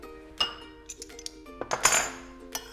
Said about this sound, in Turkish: Şimdi bir kaşıkla